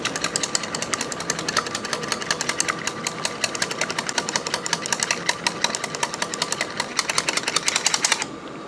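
Rapid, steady tapping and clattering of egg being beaten and mashed in a bowl for a cucumber and egg dish, continuing evenly for several seconds before stopping abruptly.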